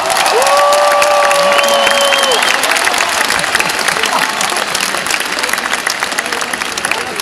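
A concert crowd at a show in Sofia applauds and cheers local kids, a loud, dense wash of clapping and voices that holds steady throughout.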